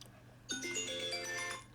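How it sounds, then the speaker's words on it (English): A mobile phone rings with a bright electronic melody that starts abruptly and carries on for over a second before fading, heard alone in a quiet room. "Sure, my phone is screaming."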